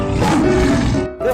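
A lion in a 3D animal video game lets out one loud, sustained roar, which fades after about a second before a short follow-up growl.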